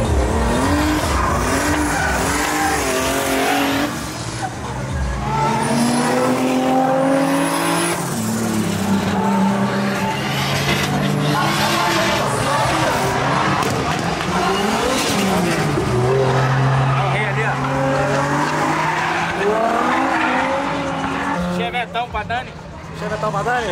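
Cars drifting at a Brazilian car meet, with loud engine revving, sweeping pitch changes and tire squeal running through most of the stretch, heard under continuous excited talk from nearby people.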